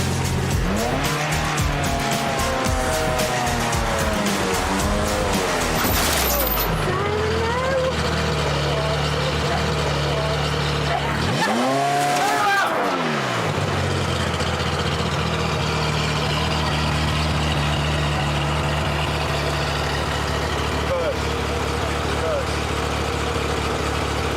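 A car driving slowly onto a race circuit, its engine loud and close with revving and pitch swells, a brief tire squeal, and people talking throughout.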